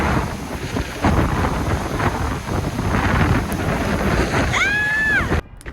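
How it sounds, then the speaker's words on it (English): Strong wind buffeting the microphone in Yosemite Valley, a roaring, gusty rumble that rises and falls for several seconds before cutting off, with a brief whistling sound near the end. "the wind was so strong that it was actually blowing these pine cones I was trying to throw right back at me"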